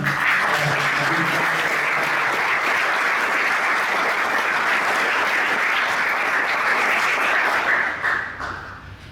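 A hall audience at a book presentation breaks into dense, sustained applause, loud and even throughout before thinning and tapering off near the end.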